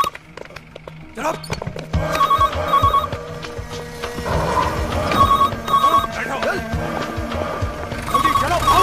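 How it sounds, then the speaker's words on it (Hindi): A telephone rings repeatedly and goes unanswered in a Punjabi film scene, its bell coming in short, regular bursts over a busy background of talk and movement. "ओफो जैन साहब, ये फोन क्यों नहीं उठा रहे हैं?"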